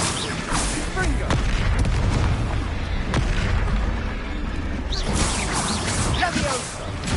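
Repeated Confringo blast spells in a Harry Potter video game, heard as a steady run of heavy booming explosions with sharp cracks at intervals, dense and loud throughout, mixed with other game noise.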